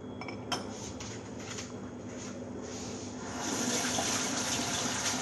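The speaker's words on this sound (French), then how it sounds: "je vais devoir me rincer les mains" Hands are rinsed under a running tap, with a few small clinks first and then a steady, close hiss of flowing water that grows louder toward the end, with no talking.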